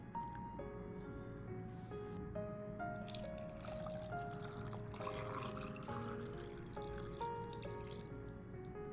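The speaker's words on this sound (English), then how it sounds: "let the pickling liquid cool down completely before pouring it into the jars" Cooled pickling liquid pours and drips into jars packed with garlic cloves, a steady close trickle with small splashes over a faint tonal background.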